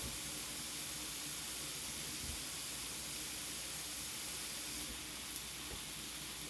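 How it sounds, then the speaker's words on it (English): Tap water runs steadily over fingerling potatoes being rinsed, a continuous broad hiss at low, even volume. "I'm going to just give these a quick rinse."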